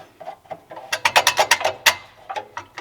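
A loose bolt and bracket under a Mini car rattle in quick, sharp metallic clicks, a loud irregular burst of taps up close with no voice over it.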